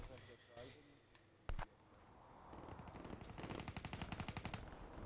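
Rapid automatic gunfire from the Man o' War assault rifle in Black Ops 3 multiplayer, a dense burst of evenly spaced shots that builds over the second half, with a single sharp blast earlier and a player talking excitedly beneath.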